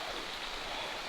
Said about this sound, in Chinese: 现在下小雨，问题不大。